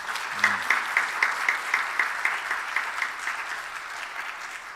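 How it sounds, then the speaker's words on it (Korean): A church congregation claps steadily and continuously for several seconds, a dense, even patter of applause with no voices standing out. "박수 한번 하세요."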